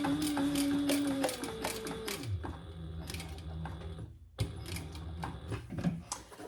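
A sewing machine stitches back over a seam on a slim duffle bag, running in short close bursts of rapid ticking with brief pauses between them.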